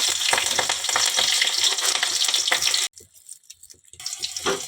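Green chillies hit hot oil for a Chhattisgarhi-style greens and adauri bari dish, giving a loud, dense sizzle that cuts off abruptly, followed by quieter crackling and stirring noises.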